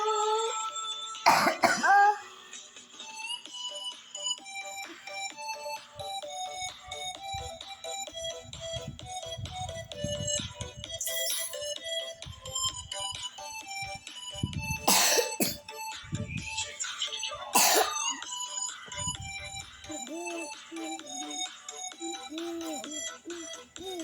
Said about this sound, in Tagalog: Kawawa naman nanay kung hindi gumagaling yung ubo niya.